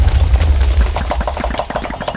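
A thrown boomerang whirs in Minecraft, a loud, continuous, throbbing hum with fast pulsing beats, heard close without any voice over it.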